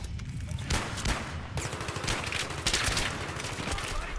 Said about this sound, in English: Getting shot from the left.